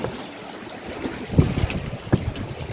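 A sailboat coming into a loch anchorage on an evening, with steady wind noise buffeting the microphone, water sloshing against the hull and a few soft knocks, no talking.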